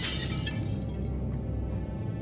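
A mirror shatters under a hammer blow in the video game Shadowgate, a loud, dense crash of breaking glass that bursts at once and then fades into a trailing tinkle of shards.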